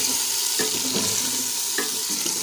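Onions and a paste of garlic, ginger and dried coriander sizzle and crackle steadily in a pan, with a few stirring scrapes and no voices.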